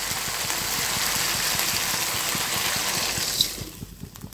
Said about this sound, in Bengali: জলটা দিয়ে দিয়েছি।